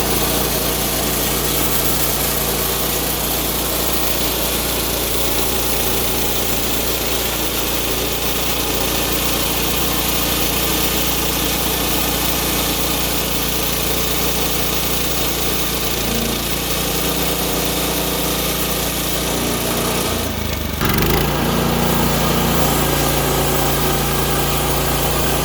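A new boat engine, called a mill, runs steadily at a loud, even idle with a constant droning hum, briefly dipping and stuttering near the end before settling back, with no talking.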